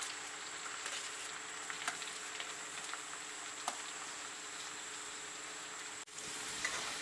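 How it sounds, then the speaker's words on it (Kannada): Onions fry in a pan in a steady, quiet sizzle that runs throughout, with a few soft ticks and pops and a brief dropout near the end. "ಇವಾಗ ನೋಡಿ ಈರುಳ್ಳಿ ಫ್ರೈ ಮಾಡ್ಕೊಳ್ಳೋಣ."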